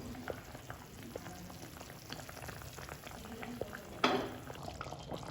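Fish curry simmers in a covered pot, a soft, continuous bubbling and faint sizzle with scattered small pops and one brief louder clatter near the end.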